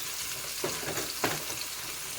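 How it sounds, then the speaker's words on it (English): Onions, scallion, garlic, scotch bonnet pepper and thyme sauté in a pan for a Jamaican spicy beef patty filling, giving a steady close sizzle broken by two brief stirring scrapes. "I'm sauteing some onions, scallion, garlic, scotch-bonnet pepper, and some thyme"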